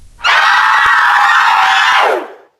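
Drawn-out, piercing screams of spirits echo through the halls of a haunted hotel, a single loud, sustained shriek that swells suddenly, holds steadily and then fades away, with no talking over it.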